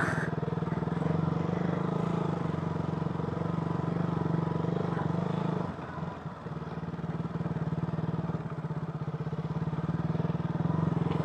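A motorcycle engine drones steadily up close, with clattering and jolts as it rumbles over a rough mountain road in Mt. Province, Philippines, briefly dipping midway.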